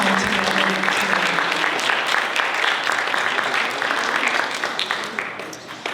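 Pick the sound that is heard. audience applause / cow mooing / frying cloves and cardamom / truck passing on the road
audience applause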